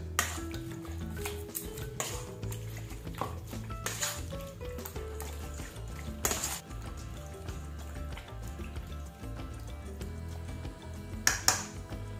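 Utensil stirring a lemon, soy sauce and bay leaf marinade for chicken adobo in a bowl, giving repeated close clinks and scrapes against the bowl with a few sharper knocks, steady throughout and with no talking.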